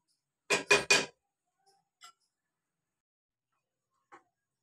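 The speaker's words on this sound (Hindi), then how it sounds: "अब हम इसे दूसरे बर्तन में शिफ्ट कर देंगे।" Patisa mixture being moved into another pot, heard as three quick close clanks of metal cookware in a row followed by a few faint, sparse clinks, with no talking.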